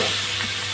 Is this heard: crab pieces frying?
yes